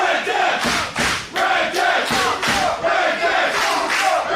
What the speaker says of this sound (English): There's a smattering of Yuta fans, but a very partisan Red Death crowd for the most part here in Williamstown today